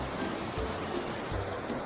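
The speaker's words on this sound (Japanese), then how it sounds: "この川は流れがすごい速いです。" Fast-flowing river water rushing steadily in the open, a broad continuous roar with some wind buffeting, fairly close and with no voices.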